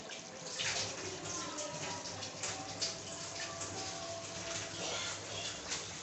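A little water poured into a pan of chicken masala for an achari chicken gravy, a soft continuous splashing trickle lasting several seconds at close range, fairly quiet, with no talking.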